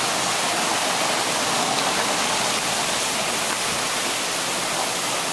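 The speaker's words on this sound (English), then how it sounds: "Day one of work has been called on account of rain and thunder." Steady, loud rain pours down on a mountain, a dense continuous wash of drops with no clear thunder, no one speaking.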